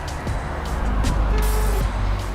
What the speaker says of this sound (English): You guys probably can't hear anything because of cars, because I'm on like a little highway